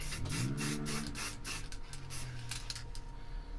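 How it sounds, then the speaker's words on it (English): Gloss varnish sprayed from a cheap spray can onto a woodturning piece, a continuous hissing spray with rhythmic pulses and a faint low hum underneath, close and steady throughout. "It's just a bit of spray gloss varnish."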